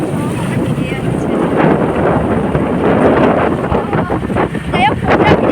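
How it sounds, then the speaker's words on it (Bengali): Heavy rain falling during a storm makes a loud, dense, continuous rush with buffeting wind noise on the microphone, close and unbroken throughout. "সেই বৃষ্টি পড়ছে"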